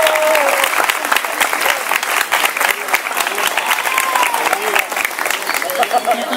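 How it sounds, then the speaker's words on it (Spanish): An audience applauding a historian's arrival at a talk, loud, close, irregular clapping from a modest crowd, with voices calling out over the hands. "Un fuerte aplauso primero para él."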